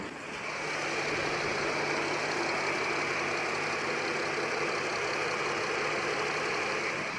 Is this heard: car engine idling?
yes